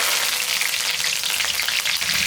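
Cumin seeds and curry leaves fry in hot oil in a pan for a chapati egg kothu, giving a steady, dense, close sizzle that crackles without a break and with no voices.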